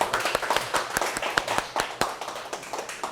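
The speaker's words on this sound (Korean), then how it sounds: "박수 한번 치면서 인사 말씀드리겠습니다" Sharp individual hand claps from a small audience at a local community presentation on a neighborhood safety map, irregular and distinct rather than a dense ovation, fairly close.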